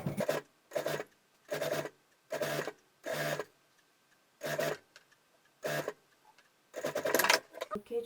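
A sewing machine topstitches beside the presser foot in short stop-start bursts of rapid stitching, about eight runs separated by pauses, close and moderately loud with no talk.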